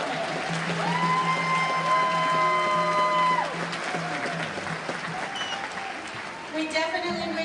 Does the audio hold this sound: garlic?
no